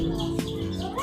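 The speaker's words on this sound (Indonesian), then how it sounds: "Burungnya sampai diparanin guys" Small birds perched on an outdoor cable give brief chirps and tweets amid background noise, with a voice talking nearby.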